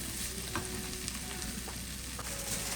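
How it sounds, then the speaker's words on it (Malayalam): Masala for chicken biriyani frying in a pan, a steady close sizzle with occasional soft stirring scrapes and no talking. "മസാല നല്ലപോലെ മുരിയട്ടെ"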